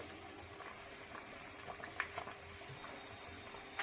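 Fish curry gravy for hilsa bubbles in a pot, a soft steady simmer with scattered small pops and a couple of brighter bursts, faint and close, with no voices.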